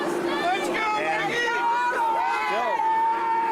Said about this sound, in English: Crowd's making some noise here.